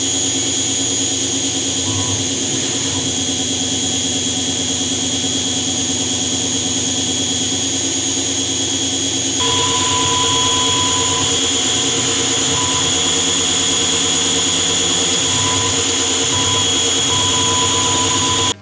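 CNC router making a slow final pass with a 2.5 mm high-speed steel cutter, a loud steady whine with sustained tonal hum, shifting and growing brighter partway through as the cut changes.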